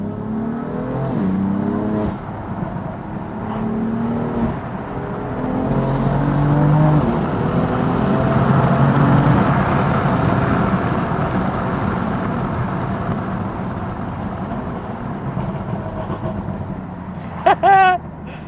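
A BMW M4 Competition (F82) accelerates hard, its engine note rising in a long, loud pull heard from inside the car and then easing off. A few short bursts sound near the end.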